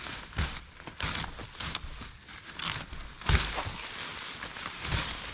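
A tangled, tattered plastic rain jacket picked up as trash from a creek, crinkling and rustling in irregular bursts with a few sharper crunches, close by.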